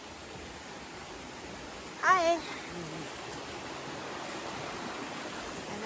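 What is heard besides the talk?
big river flowing on the Appalachian Trail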